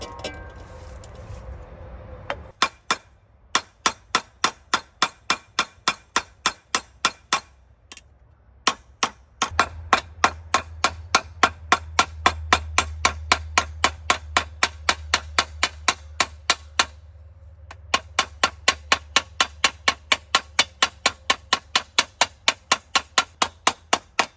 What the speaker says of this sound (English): I'm gonna peen this piece over into the leather.